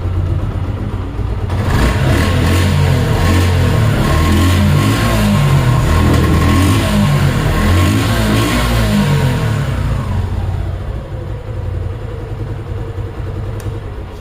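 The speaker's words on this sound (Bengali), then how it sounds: "বাইকটির সাউন্ড কন্ডিশন যদি দেখায় আপনাদেরকে" Second-hand Suzuki Gixxer Classic motorcycle with about 2200 km on it, engine starting up, running loud and close, then settling to a lower idle near the end, no talk.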